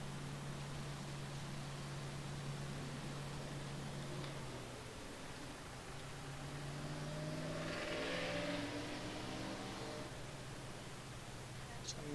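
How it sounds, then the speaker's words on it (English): Road traffic outside carries in through a wide-open door: a steady low rumble with a vehicle's engine swelling and passing partway through, heard from a distance behind a constant hum. "Some noisy traffic out there with the door wide open."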